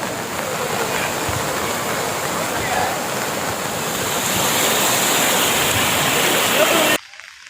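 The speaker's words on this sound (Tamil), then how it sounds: "சுமார் 4 அடிக்கு மேல் வெள்ளம் பெருக்கெடுத்து ஓடியது" Floodwater rushing over a road in Thoothukudi during a flash flood, a loud, continuous roar of churning water that holds steady for several seconds before cutting off abruptly.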